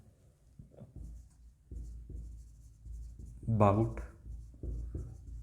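Pen scratching on paper in short, close strokes and bursts, soft and steady, while someone speaks briefly partway through.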